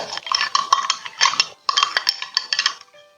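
A spoon clinks and scrapes against glass and ice in quick bursts while scooping an iced dawet drink, close and bright, with short pauses between scoops.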